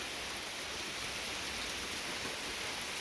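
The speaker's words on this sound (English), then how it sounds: "Yep, just like yesterday. It's raining." Rain falls steadily on a wet outdoor deck, making an even, soft hiss of many tiny drops that stays constant and fairly faint, with no voices.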